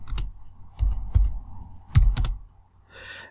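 Keys on a computer keyboard clack in short, close bursts of a few strokes each, separated by brief pauses, in a quiet room.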